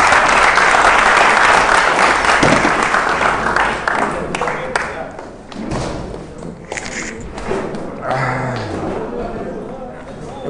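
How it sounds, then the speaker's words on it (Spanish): An audience at a Spanish-language talk on addiction and codependency bursts into sustained, loud applause that slowly thins out, with some thuds and voices mixed in. "Un aplauso."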